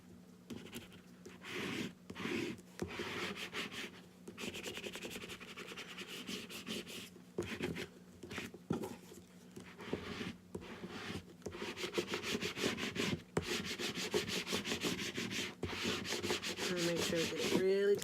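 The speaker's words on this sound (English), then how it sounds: "Our little squeegee. And we'll go and we'll varnish." A small squeegee spreads varnish across a DIY whiskey glass in quiet, close rubbing and scraping strokes that come in uneven bursts and grow slightly stronger toward the end.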